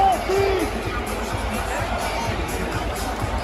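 A passionate crowd of basketball fans chants in an arena, a dense roar of massed voices with a rhythmic pulse, heard from within the stands.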